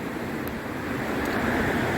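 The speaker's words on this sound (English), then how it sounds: "I believe this is the Nantahala River." The Nantahala River rushes as a steady broadband wash of water, continuous and fairly loud, with no voices.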